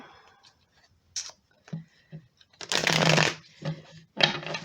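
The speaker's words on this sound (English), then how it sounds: "let's pull a few more cards here" Tarot cards are shuffled and pulled from the deck in several bursts of riffling and snapping, the loudest in the middle. Quieter card taps and slides come between them. The sound is close and crisp, with no talk.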